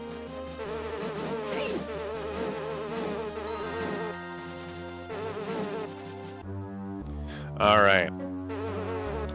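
A bee enemy buzzes in The Hobbit on Game Boy Advance, a steady droning hum set against game music and effects, with a brief louder burst near the end and a short spoken word.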